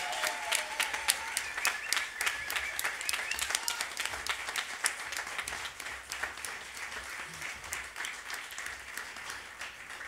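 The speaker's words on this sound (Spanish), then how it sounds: "Fuerte, fuerte ese aplauso." Sustained clapping from a concert audience at a folk music show, faint and somewhat distant, made of many crisp individual claps that keep on steadily, with a few brief vocal tones near the start.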